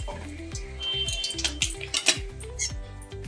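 Whole cumin, cardamom, clove, cinnamon and two small bay leaves sizzle in hot oil, a steady close crackle with repeated scraping stirs and pan clatter, for a palak chicken.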